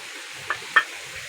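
Whole spices (cinnamon, cloves, cardamom, black peppercorns, bay leaf and a star anise) drop into a hot pot for vegetarian navratan biryani, giving two brief sizzling crackles over a quiet steady hiss.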